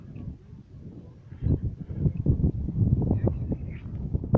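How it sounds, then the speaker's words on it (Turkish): Gusty wind buffets the microphone in low, rumbling bursts that swell and fade, with faint rustling in the background, while fishing for sea bass. "Hava da biraz rüzgarlı"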